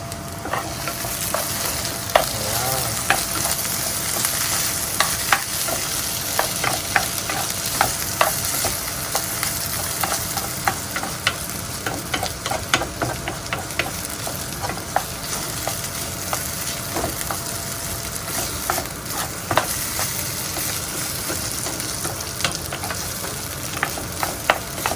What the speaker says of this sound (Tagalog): At i-fry na rin natin yung patatas natin.